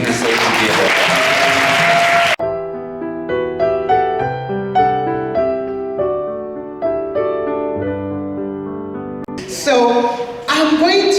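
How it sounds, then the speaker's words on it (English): A crowd at a Youth Day celebration bursts into a round of applause, which breaks off and gives way to a sustained tonal musical passage, then a brief return of clapping and voices at the end. "can we have a massive round of applause for Josh for bringing us all together"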